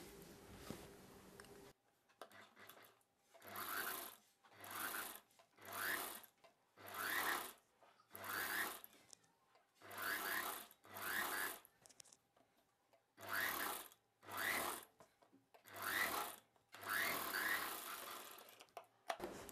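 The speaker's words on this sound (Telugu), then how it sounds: "ఇప్పుడు ఈ చివరి నుండి కుట్టు వేయడం స్టార్ట్ చేసేసుకోవాలి." A sewing machine stitching the hem of an umbrella dress, running in steady bursts of about a second each, separated by short pauses, close and alone.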